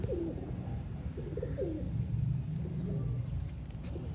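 Rare dub-marked pigeons coo repeatedly on a Lahore rooftop, a soft low rolling call over a faint background rumble.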